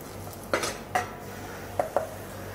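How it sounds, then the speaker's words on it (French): A spoon stirs tomato into onions in a pan, giving four light clinks of utensil on metal over a faint steady background hiss. "On va incorporer la tomate dans les oignons"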